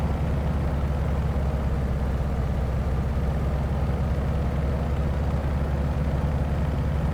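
Propeller engine of a Carenado Gee Bee Z racing plane in a flight simulator, a steady, loud low drone holding an even pitch throughout with no voices over it.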